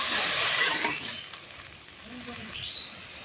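Water poured into a pan of sautéed chillies erupts into a loud, close hissing sizzle that eases slightly, then swells again as steam keeps crackling.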